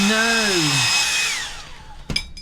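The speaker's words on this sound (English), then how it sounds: "I'm just going to use my hairdryer to dry this a bit." A hair dryer drying children's book artwork winds down, its high whine sliding lower in pitch until it fades out, followed by a sharp click.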